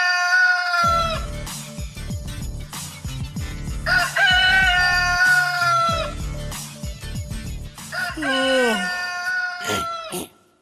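A cartoon rooster crows loudly nearby three times, each long call rising and then trailing off, with short pauses between them.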